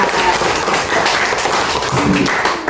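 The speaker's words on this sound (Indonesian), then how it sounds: "Kita tepuk tangan untuk kelompok 3." A group of children in a classroom clap for group 3 with brisk, fairly loud applause that fills the room, with some voices mixed in.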